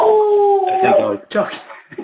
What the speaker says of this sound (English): Will's dog agrees.